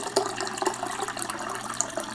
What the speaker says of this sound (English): I'll top off with some filtered water